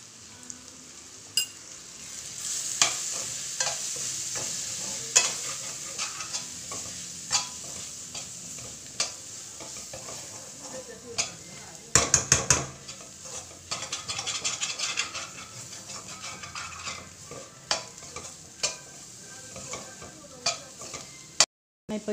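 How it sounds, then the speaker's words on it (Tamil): Onions and tomatoes, spiced with turmeric, chilli powder and coriander powder for a Kerala-style duck curry, sauté in a pan with a steady sizzle, broken by repeated scraping and stirring strokes of a spoon, with no talking. "இப்போ வெங்காயம் தக்காளி எல்லாம் நல்லா வதங்கிச்சு."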